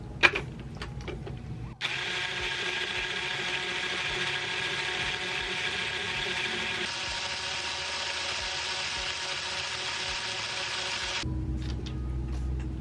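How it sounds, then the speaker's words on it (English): A power drill whirs steadily for about ten seconds, starting and stopping abruptly, with its pitch shifting partway through; clicks and handling noise surround it. "So, let's drill."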